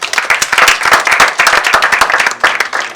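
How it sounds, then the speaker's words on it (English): Audience applause at a panel discussion event on human rights and national security: dense, steady clapping from a sizeable crowd, close and continuous for the whole three seconds. "A round of applause to them for coming."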